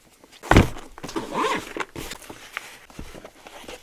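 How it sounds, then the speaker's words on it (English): A zipper is pulled open on the two-compartment carrying case of a RadioMaster MT12 surface radio, with a sharp thump at the start, then a rasping zip and soft handling rustles, close by. "Let's open it up. This is a nice carrying case here."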